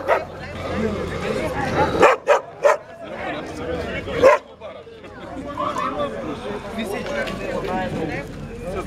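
A few sharp barks from a hunting dog ring out between people talking, with a short cluster of barks in the middle.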